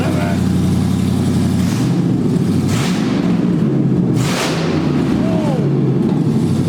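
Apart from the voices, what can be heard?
2011 Dodge Charger 5.7L V8 revving with open BBK shorty headers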